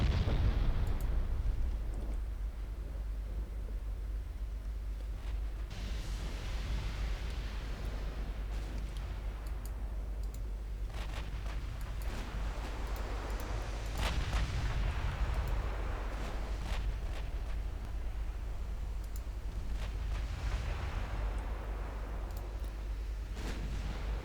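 Naval guns firing armor-piercing shells from American cruisers in the Ultimate Admiral Dreadnoughts warship game, a continuous rumbling barrage of deep booms and blasts with no talk.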